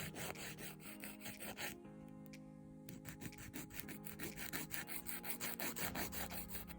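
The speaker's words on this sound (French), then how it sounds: "je vais toujours limer dans le même sens et vers le bas" A nail file works a fingernail in repeated one-directional downward strokes while rounding the corners, producing soft, quick scratchy rasps in an irregular rhythm, close but faint, with a low steady tone in the background.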